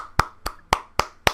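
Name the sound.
applause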